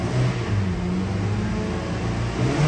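A 2016 Mazda CX-5 with a 2.5-liter engine revs up and settles in a steady, loud hum with slight rises in pitch, heard close and alone.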